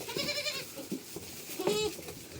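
Goats bleat inside a barn: several nasal calls close by, one longer cry near the end, with quiet rustling between.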